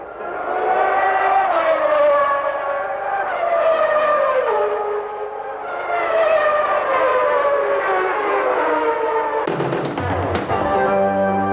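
1991 McLaren Honda Formula One cars racing at Phoenix, their high, rising engine wails sweeping past in overlapping passes, loud and close, ending in a sharp burst of another car going by.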